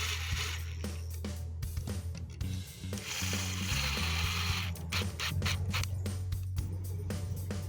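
Screws are tightened into a mounting bracket for a Novostella smart security light, giving a close series of sharp mechanical clicks and ratcheting taps in an uneven rhythm.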